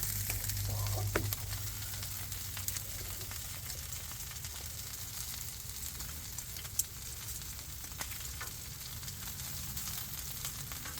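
Sausages fry in a pan outdoors at breakfast, a steady crackling sizzle throughout with a few brief stirring clicks, close and unbroken.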